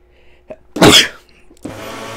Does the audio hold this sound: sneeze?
yes